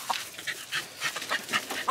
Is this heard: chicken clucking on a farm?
yes